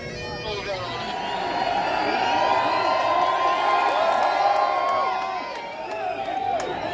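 Outdoor crowd at an Irish nationalist protest raising a loud, sustained cheer with shouts and whoops. It swells to a peak midway and then eases off, and the crowd stays close and fills the whole stretch.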